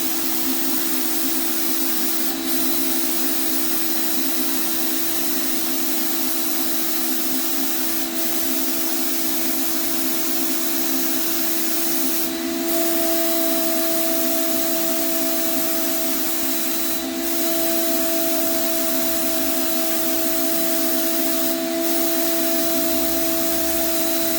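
Photoluminescent paint is sprayed on in a heavy coat, producing a loud, unbroken hiss over a steady mechanical drone for the whole stretch, and no one speaks.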